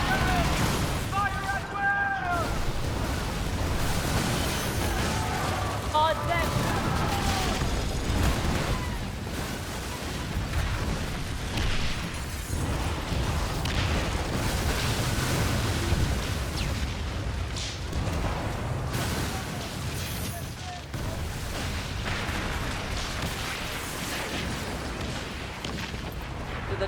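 Ship cannon fire and explosions in the pirate naval video game Skull & Bones, a continuous loud rumble of booms and blasts with voices calling out over the battle.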